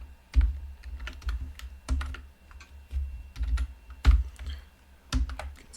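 Keys on a computer keyboard are tapped in short bursts while typing code, close and fairly soft, with brief pauses between clusters of clicks and no talking.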